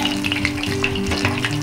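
Corn pakoda fritters frying in oil over a lowered flame, a steady dense sizzle with crackling bubbles close by, no talking.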